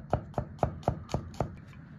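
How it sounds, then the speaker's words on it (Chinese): Knife chopping garlic cloves into slices on a cutting board in a home kitchen, six steady evenly spaced chops, close and crisp, with no talking. "把蒜直接就切片吧"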